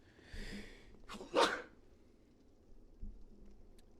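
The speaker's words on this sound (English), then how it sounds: "I have to sneeze." A single close, sharp sneeze bursts out after a brief inhaled breath, followed by quiet room noise.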